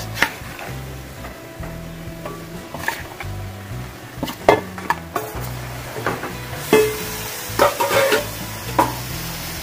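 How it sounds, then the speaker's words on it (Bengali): Marinated chicken sizzles in a hot pan while a spatula stirs and scrapes, with clinks and knocks against the pan. "এবার আমি 10 মিনিট ম্যারিনেট করে রাখা চিকেনটাকে দিয়ে দেবো।"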